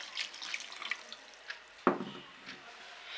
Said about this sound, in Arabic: غادي نزيدو الماء الكافي اللي غادي يطيب لنا فيه الخضره